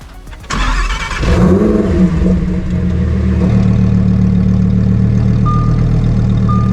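A Lamborghini Huracan with an LB Silhouette body kit starts with a sharp burst, then settles into a loud, steady rumble with rising and falling revs while driving, close by and with no talking.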